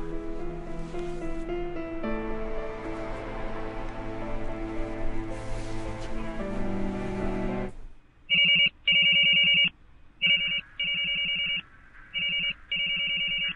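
An electronic telephone rings loudly in repeated short bursts with brief gaps, starting abruptly after several seconds of dense music that cuts off, with no voices present.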